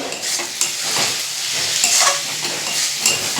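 Food sizzles steadily in a hot frying pan in a home kitchen while a utensil stirs and scrapes through it, producing continuous hiss with light clinks, close and fairly loud throughout.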